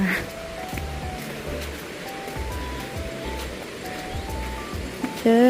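Steady rushing water from Sai Yok Yai waterfall roars in the background, a continuous wash, with faint tones and footsteps drifting over it.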